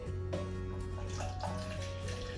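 Water flows steadily into a bowl as 200 ml is added to the oil for a cake batter, a continuous pouring splash that lasts the whole stretch with no talking.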